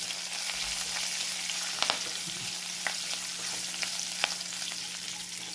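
Chillies, curry leaves and urad dal crackle and sizzle in hot oil for a tempering, a steady frying hiss with occasional sharp pops and light stirring, no voices.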